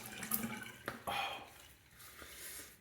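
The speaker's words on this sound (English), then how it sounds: "Let's do a cold water rinse." A tap runs cold water for a rinse during a wet shave. The water gives bursts of splashing and gushing with short pauses, close and fairly quiet.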